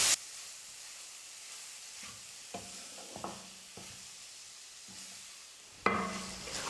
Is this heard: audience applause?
no